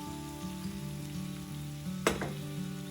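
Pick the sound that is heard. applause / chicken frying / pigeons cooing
chicken frying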